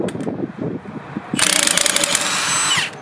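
A socket ratchet works bolts loose on the drum of a Bandit 1290XP drum wood chipper, with a few faint knocks and then a rapid, loud clicking run lasting about a second and a half, close up.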